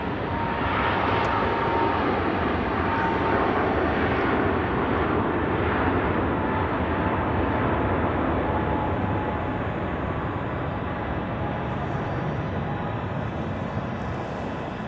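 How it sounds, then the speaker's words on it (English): A Pegasus Airbus A320neo jet takes off at Zurich Airport on a winter day, its engines giving a loud, steady roar that holds for the whole stretch with no voices. "It's just a Pegasus A320 Neo."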